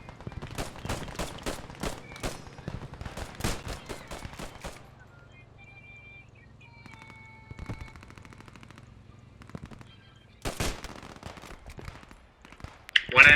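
Machine gun fire in the World War II shooter Post Scriptum, fought around a trench: rapid bursts of sharp, loud shots open the scene, a quieter stretch follows with distant pops and a low rumble, then more bursts crack close by near the end.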